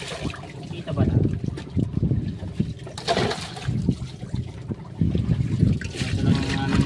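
Plates and pots being washed with water, irregular splashing, clatter and trickling, fairly close, with people talking over it at times.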